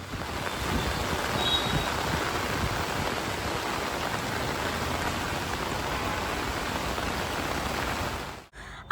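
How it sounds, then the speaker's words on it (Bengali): Steady, heavy rain pours down in a dense, even wash of noise with no voices, fading out abruptly at the very end. "বলতে না বলতেই ঝমঝম করে বৃষ্টি নেমে গেল"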